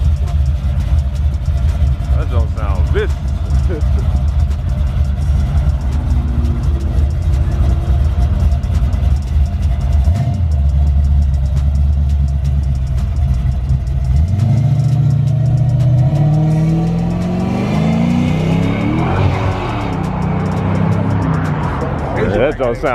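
Several cars idle and rev at a Cars and Coffee meet that includes a Dodge Challenger 1320 and a Z06, with a steady engine rumble throughout and a louder rising rev near the end, while people talk close by.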